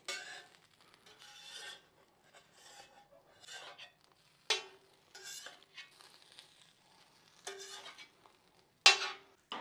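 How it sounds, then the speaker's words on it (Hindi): Burger buns roast in a pan, giving intermittent scraping and light sizzling strokes, each a short burst separated by quiet gaps, close and moderately loud. "अब हल्का सा हम इनको रोस्ट कर लेंगे।"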